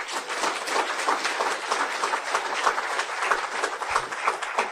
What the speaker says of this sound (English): Can you hear our applause, please?